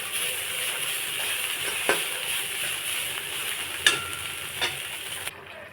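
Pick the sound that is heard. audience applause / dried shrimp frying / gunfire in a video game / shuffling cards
dried shrimp frying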